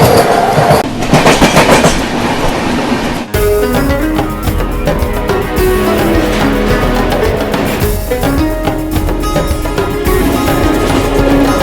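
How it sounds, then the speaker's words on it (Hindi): An Indian Railways express, the Dibrugarh–Kanyakumari Vivek Express, rolls past close by with steady clickety-clack of wheels over rail joints and a loud continuous rumble, no voices over it. "Dibrugarh Kanyakumari Vivek express train."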